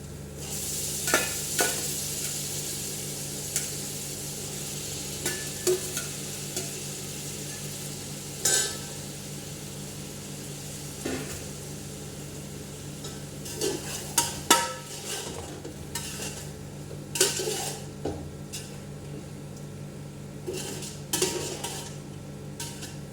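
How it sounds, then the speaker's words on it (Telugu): Chicken frying in ginger masala in a pan, with a steady sizzle under scattered sharp clinks and scrapes of a spoon stirring against the metal, close and without talk. "అల్లం మసాలా బాగా వేగింది ఫ్రెండ్స్. ఇప్పుడైతే 2-3 సార్లు బాగా కడుక్కున్న చికెన్ వేసుకున్నాం ఫ్రెండ్స్."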